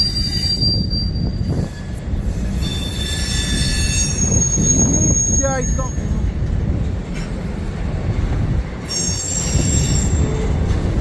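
Freight train wheels squeal loudly as cars roll through a crossing beside the Mississippi River toward the Robert Street lift bridge in St Paul, with steady rumbling, piercing high squeals and a voice speaking briefly over the noise.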